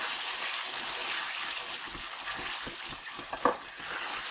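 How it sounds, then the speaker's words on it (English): Corned beef and cabbage stew stirred in a pan, a soft steady sizzle under scattered light scraping strokes, with one sharper clink near the end. "So you have to stir occasionally so it doesn't stick."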